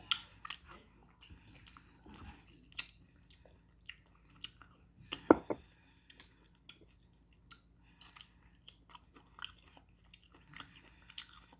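Someone eating beef bone marrow, with close, wet chewing, smacking and occasional crunchy bites at an uneven rhythm, one louder bite near the middle, heard alone in a quiet room.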